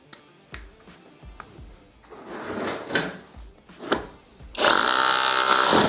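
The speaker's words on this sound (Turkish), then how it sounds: "Bir de şu kırıcıya bakalım." A cordless breaker hammer from a four-piece cordless tool set is handled with several sharp clicks and knocks, then starts up into a loud, continuous rattling hammer buzz close by.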